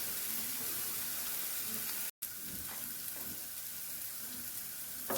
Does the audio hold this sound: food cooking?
yes